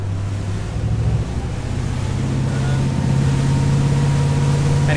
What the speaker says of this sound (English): Oh man, when that exhaust comes out of the water, it sounds amazing.